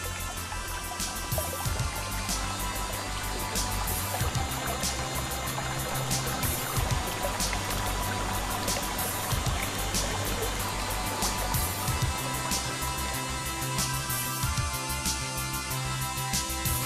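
Steady broadband rush of water from the Foluszowy Potok stream beside a small pond in Zakopane, a continuous close trickle and flow with no pauses across the whole stretch.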